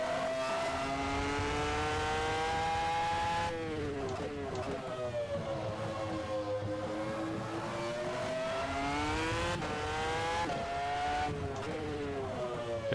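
Race car lapping the Brands Hatch Indy circuit, heard from onboard as the engine screams up through the rev range, dips on gear changes and climbs again, loud and continuous throughout.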